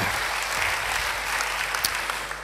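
Congregation applause during a church service, a steady wash of clapping that continues evenly with a low hum underneath, fading slightly at the end.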